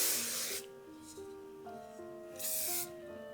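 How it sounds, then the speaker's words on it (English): Two short hissing bursts of an aerosol spray, one at the start and another a couple of seconds later, over quiet background music. "So then again, you can spray that."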